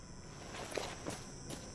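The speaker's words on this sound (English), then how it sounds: "I'm enjoying the sound of the footsteps" Quiet footsteps in S.T.A.L.K.E.R., a few soft evenly spaced steps over a steady hiss of ambient environmental noise, faint and alone.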